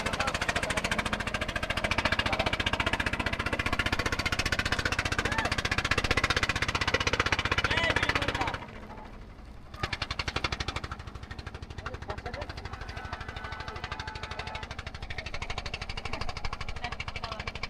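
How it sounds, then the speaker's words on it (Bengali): A trawler boat engine chugs on the Padma river near the Dhawapara ferry ghat in Rajbari, a rapid loud knocking drone that drops away briefly midway, then returns somewhat quieter. "এই যে ট্রলার যাচ্ছে।"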